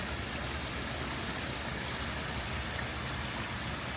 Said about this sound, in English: large waterfall in the background.